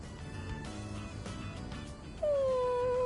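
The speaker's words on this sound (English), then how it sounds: "The puppy's really sad." A sad puppy in the video game Persona 3 Reload lets out a high, drawn-out whimper that slides downward, heard faintly over quiet game background sound.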